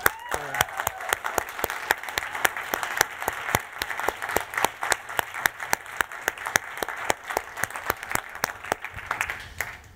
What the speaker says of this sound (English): I wanted to just give them a big round of applause.